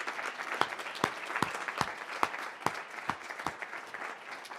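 An audience at a university lecture event applauds in a steady burst of clapping, with sharp individual claps standing out over a dense, fairly close wash that holds throughout.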